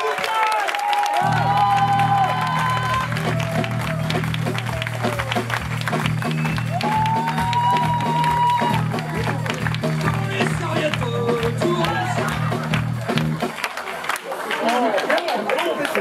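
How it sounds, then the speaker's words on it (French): Audience applause and cheering at a live band concert, a dense crowd roar with clapping sustained over a steady low musical drone, loud and continuous throughout. "je vous demande un triomphe, un tonnerre d'applaudissements"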